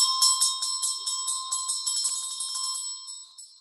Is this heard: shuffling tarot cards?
no